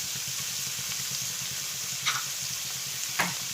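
Sliced onions with a small spoonful of salt are stirred in a hot pan for Kerala-style beef mappas. A steady frying sizzle runs throughout, with two sharp scraping clicks of the spoon against the pan.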